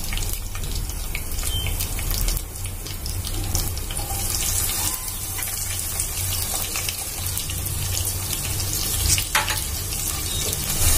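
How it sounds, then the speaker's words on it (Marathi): Finely chopped onion fries in a pan with a loud, steady, close hiss and crackle that runs without a break. "यामध्ये आता मी जो बारीक कांदा शिरून घेतलेला आहे तो ऍड करून घेते."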